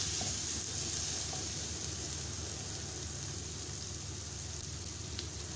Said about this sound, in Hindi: ये मैं सारे आलू इसमें ऐड कर दूंगी और इसको अच्छी तरह से हम मिक्स करेंगे